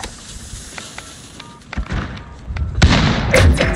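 Bomb plant in Call of Duty Modern Warfare 2019 Search and Destroy on PC: a run of soft clicks and thumps builds into louder metallic clunks and rustling near the end, close and busy over faint game ambience.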